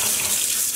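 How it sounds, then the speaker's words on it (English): Cool tap water runs steadily into a sink while dyed yarn is rinsed with Dawn dish soap, a continuous close hiss of flowing water with no talk. "I'm using just some Dawn dish soap and cool water"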